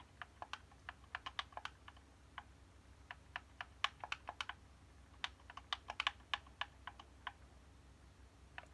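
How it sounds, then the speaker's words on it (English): Typing a username on a computer keyboard: a steady run of crisp, quick clicking keystrokes, some in rapid bursts, close but fairly quiet over faint background hum. "Just type in this username."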